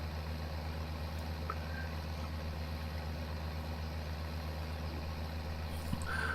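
A tractor engine idles steadily in a farming video game, a low, even rumble that holds throughout with no talking, and a brief click near the end.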